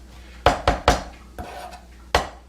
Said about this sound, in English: a mezzaluna is very handy and makes you very impressive